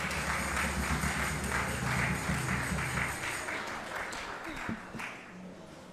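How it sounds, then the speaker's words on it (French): An audience applauds a church choir at a Christmas Sunday service, with steady clapping running alongside a talking voice before it thins out near the end. "On applaudit pour la chorale."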